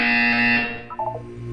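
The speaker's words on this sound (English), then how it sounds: "You will hear a buzzer." A loud electronic buzzer from the Portal 2 video game sounds in one sustained harmonic blast, then fades into softer tonal game sounds and a low hum.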